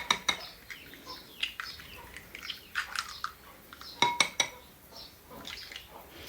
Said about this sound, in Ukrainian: Все перемішую і в мисці вбиваю яйця.